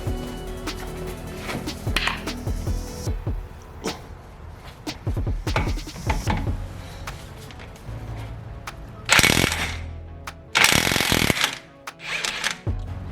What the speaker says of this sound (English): remove the nut with a breaker bar